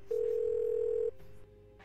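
In a point-and-click adventure game, a telephone receiver is picked up and a steady, clear dial tone hums for about a second before it drops to a quieter tone and fades out, with no talk.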